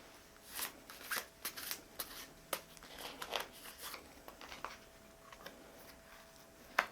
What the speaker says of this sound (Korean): 소울 카드 뽑아 보겠습니다